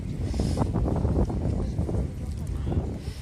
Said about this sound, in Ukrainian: Такий вітер холодний тут, що я вже замерзла.